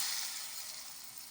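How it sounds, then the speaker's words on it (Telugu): Hot tempering of fried lentils poured into coconut chutney, giving a steady bright sizzle that starts strongest and slowly fades over a short moment, close up, with no talk. "చట్నీలో పోపు వేసుకుందామండి."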